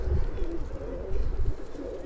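Pigeons coo softly and steadily in a loft against a low rumbling background, with no one speaking.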